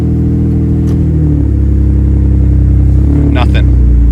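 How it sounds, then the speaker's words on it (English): A Mitsubishi 3000GT drift car engine idles loudly and close, then sags and bogs briefly as the clutch is pressed and it is put into gear, with a short higher-pitched mechanical squeal near the end. "I'll press the clutch down and I'll go into gear, and you can hear it like bog a little bit"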